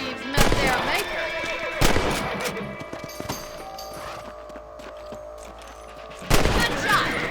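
Rifle shots crack out in the Red Dead Redemption video game during a rabbit hunt, three sharp loud reports spaced a few seconds apart, each trailing off, with horse sounds and ambience between.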